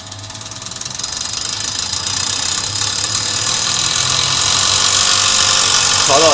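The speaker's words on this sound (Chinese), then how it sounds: "启动 OR 的试验台，让它转起来。" A VP44 diesel injection pump running on a test bench, a steady mechanical drone and rattle that grows a little louder as it spins up, close and continuous, with no talking.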